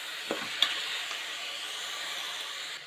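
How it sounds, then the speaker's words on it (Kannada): Rice being stirred into tomato bath in a hot pan, a steady soft sizzle with a couple of brief scraping knocks from the spoon near the start, close and fairly quiet. "ಇವಾಗ ರೈಸ್ ಹಾಕಿದ್ದೀನಿ, ಚೆನ್ನಾಗಿ ಮತ್ತೆ ಮಿಕ್ಸ್ ಮಾಡ್ಕೊತಿದ್ದೀನಿ."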